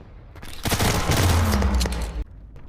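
A loud burst of rapid gunfire in the VR shooter Tactical Assault VR, about one and a half seconds of fast repeated shots with booming low end, then a sudden stop and quieter tail.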